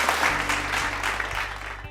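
At a national quiz competition, the audience claps steadily for about two seconds, a full wash of many hands over a low background hum.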